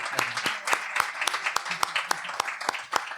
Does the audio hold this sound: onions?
no